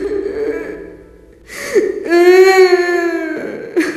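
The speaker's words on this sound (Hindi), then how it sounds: "उस घर में उनकी पहली रात उन्हें एक औरत की रोने की आवाज सुनाई दी" A woman's crying sound effect in an animated horror story: wavering, sobbing wails rise in pitch and hold, with a gasping breath before the longest cry, heard alone and fairly loud.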